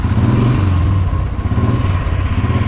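A Royal Enfield motorcycle engine rumbles steadily at close range, holding a loud, throaty, aggressive idle-to-rev tone throughout with no voices.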